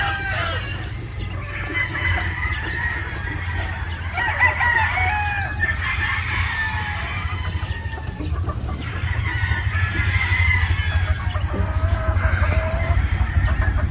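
Gamefowl pullets in pens cluck and crow, several birds calling in overlapping bursts over a constant hum and steady background noise, no voices.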